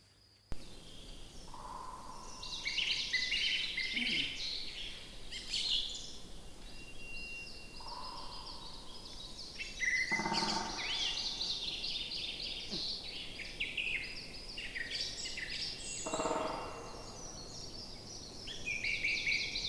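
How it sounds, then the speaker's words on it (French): Two woodpeckers in the remote Pechora forest trade drumming rolls in the early-morning light, each burst echoing through the trees, while other birds sing and chirp steadily around them. "vous avez un superbe son avec ces 2 pics qui se répondent et on entend toute la forêt avec l'écho en fait."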